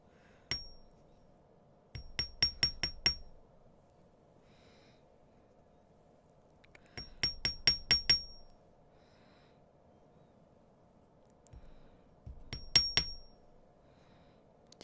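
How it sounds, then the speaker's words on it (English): A small hammer flattens the wire loops of teardrop dangle earrings with an amethyst cathedral drop gemstone. It sounds as three separate bursts of about five quick, close, ringing metallic taps, with quiet gaps between them and no talking. "hammer this part a little bit."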